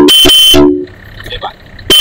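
Loud aftermarket Bosch Europa horn fitted to an ADV160 scooter: three sharp, close blasts in quick succession, a brief lull with faint background sounds, then another loud honk at the end.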